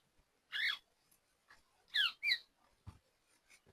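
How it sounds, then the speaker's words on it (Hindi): Parrots calling from around a farm field, a few sharp separate squawks and chirps with pauses between them, fairly close and standing alone against a quiet background. "ये देख लो भाई, तोतों की चहचहाट, तोते बोल रहे हैं।"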